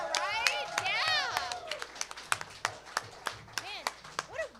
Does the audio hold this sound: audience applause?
yes